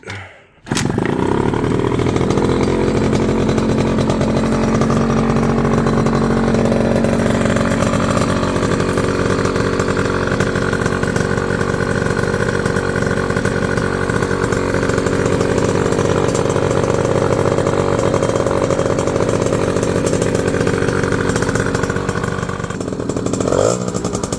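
A Peugeot Fox moped's two-stroke engine runs steadily for over twenty seconds after starting, a loud, continuous buzzing drone up close with no talk over it, fitted with an Airsal setup.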